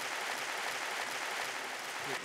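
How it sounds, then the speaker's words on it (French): An audience applauds the organizing team at the opening ceremony of the ECOPOSS 2022 Biennale, with a steady wash of clapping that stays even and moderately distant for about two seconds. "Ils ont super bien bossé et on peut les applaudir"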